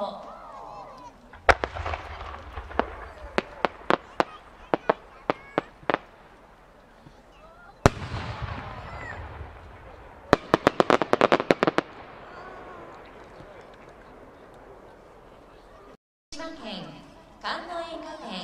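Size 8 senrin fireworks at the Aizu fireworks competition burst in loud, sharp volleys of crackling reports, some single and some in rapid clusters, with quieter crowd noise and voices between them.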